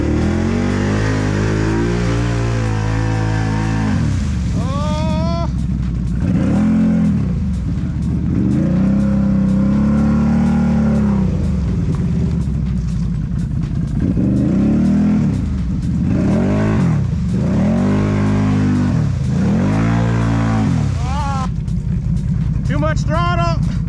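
A Can-Am Renegade 1000 ATV engine revs hard and repeatedly on throttle while climbing a trail, loud and close, its pitch rising and falling in surges, with talk at times.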